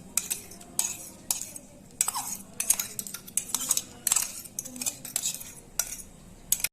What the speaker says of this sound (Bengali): এবার এটা আমি পাত্রে ঢেলে নিচ্ছি